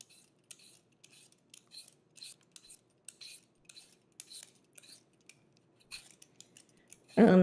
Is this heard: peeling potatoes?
yes